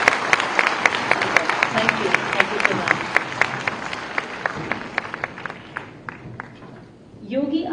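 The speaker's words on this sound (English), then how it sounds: "Honorable Sir deserves a very, very good round of applause." An audience at the opening of the 25th international conference of world chief justices, with students present, gives a round of applause: steady clapping that fades over several seconds while a nearby voice speaks.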